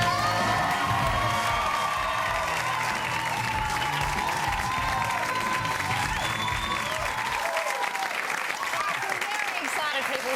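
A television studio audience applauds a guest arriving on an Australian talk show, sustained loud clapping with some cheering and whoops that runs for about seven seconds and then thins out.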